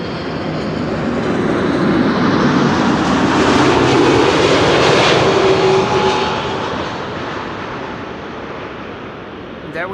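An airliner landing at Amsterdam Schiphol Airport roars past in a broad, steady wash of engine noise that swells to a peak mid-pass and then slowly fades, with faint talk in the background.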